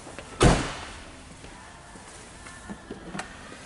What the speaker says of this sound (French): un petit bouton qui est ici, qui va nous permettre d'ouvrir le coffre